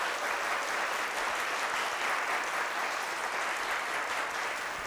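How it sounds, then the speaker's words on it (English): Studio audience at a talk show clapping in a thick, continuous wash of applause that holds evenly from start to finish, full and close, with no talk on top. "Let's give her a round of applause as we give away some prizes."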